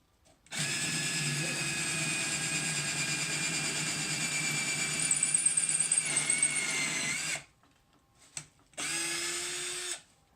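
A power drill whines loudly and steadily into metal for a segmented pen for several seconds, stops, then runs again briefly after a short pause.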